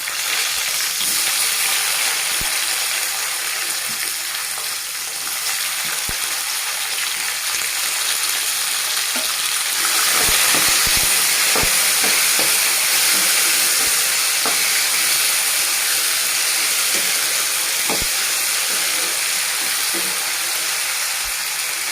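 Tomatoes added to a hot pan with browned dried red chillies for a Telugu tomato chutney sizzle and hiss steadily, a loud continuous frying sound with occasional sharp pops and crackles, no speech.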